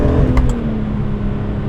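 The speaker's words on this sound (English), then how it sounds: "Let's see if it works when I hard accelerate into fourth." A BMW E46 M3 with an SMG gearbox, suspected of a compression spring fault, accelerates hard into fourth gear, its engine giving a steady, strained roar close to the microphone for a brief moment.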